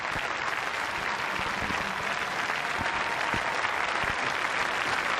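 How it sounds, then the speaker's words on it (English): Steady, dense audience applause for Donnie Byrnes and Gaynor Fairweather at a professional Latin dance competition in Paris, a continuous wash of clapping throughout. "Worthy applause"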